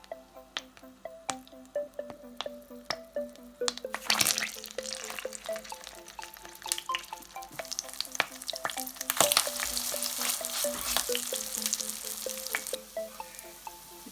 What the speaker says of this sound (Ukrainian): котлетки і відправляємо на розігріту сковорідку.